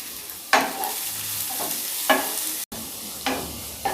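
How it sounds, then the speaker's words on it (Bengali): Chopped small onions frying in a pan, with a soft steady sizzle broken by several sharp stirring scrapes and clatters at irregular intervals, close up with no voices. "এবার আমি এর মধ্যে দিয়ে দিচ্ছি দুটো ছোট ছোট পেঁয়াজ। আমি ছোট ছোট করে কেটে রেখেছি, সেগুলো দিয়ে ভালো করে ভেজে নিচ্ছি।"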